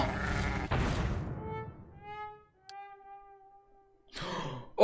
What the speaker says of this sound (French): il y a des moutons explosifs